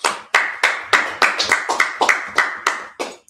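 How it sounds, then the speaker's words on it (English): A group claps hands during a Sabbath service, about a dozen sharp, evenly spaced claps in a steady rhythm, close and loud, with no speech over them. "Let's clap it up."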